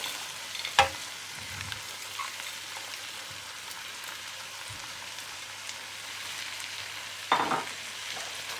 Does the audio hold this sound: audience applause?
no